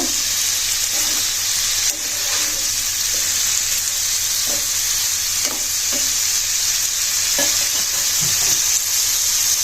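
A katla fish curry with cauliflower and potato sizzles steadily in a pan while a spoon stirs it, scraping now and then against the pot at a close, even level.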